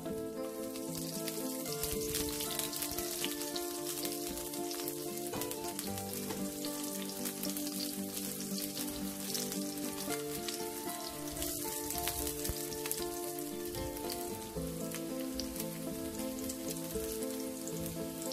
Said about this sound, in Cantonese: 爆一爆呢個蒜片